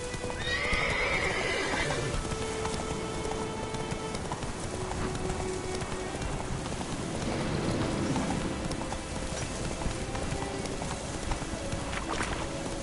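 Roach the horse from The Witcher 3 gallops in steady clip-clopping hoofbeats with a whinny near the start, over continuous game ambience and no talk.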